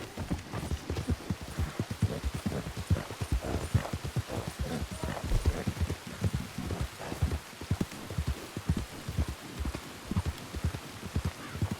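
Steady clip-clop of horse hooves in Red Dead Redemption 2 Online, a dense rhythmic patter of close, moderately loud footfalls with a light rain-like hiss, no talking.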